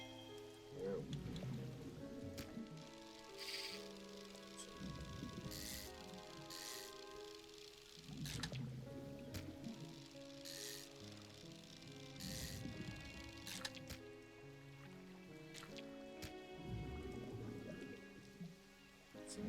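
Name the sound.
rain falling in the video game Dredge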